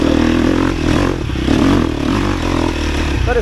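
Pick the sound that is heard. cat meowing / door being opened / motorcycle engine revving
motorcycle engine revving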